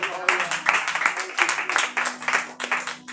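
An audience at a French-language sermon claps in a lively, uneven burst that continues for a few seconds, with a voice speaking over the applause.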